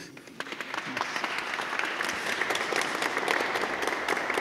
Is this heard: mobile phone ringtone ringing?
no